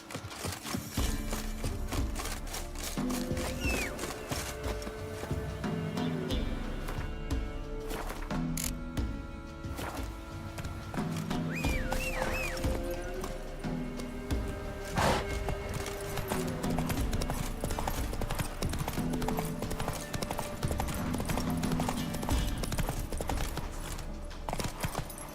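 Horse hooves clip-clopping steadily in The Witcher 3, a continuous rhythmic trot heard up close against in-game ambience and background music, with no speech over it.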